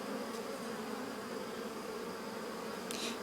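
Honeybees crowd an open hive during an amateur beekeeper's frame inspection, making a dense, steady buzzing drone up close that never lets up, with no voices.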